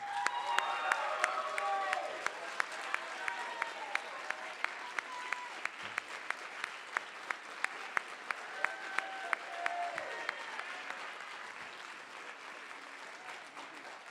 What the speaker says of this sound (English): if you would join with me one last time, please, and stand and applaud